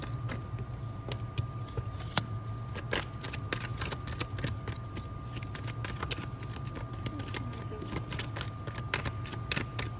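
Cards are shuffled continuously for a pick-a-card reading, with a steady papery riffling and snapping over a low constant hum.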